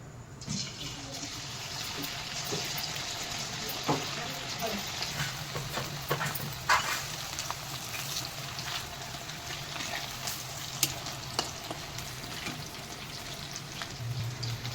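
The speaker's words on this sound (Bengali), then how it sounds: "এই আমার তেল গরম হয়ে গেছে এবার পকোড়াগুলো এক এক করে আমি তেলের মধ্যে ছাড়বো" Chicken pakoras sizzling as they fry in hot oil, a steady crackling hiss with occasional sharper pops and stirring clinks, fairly quiet and close.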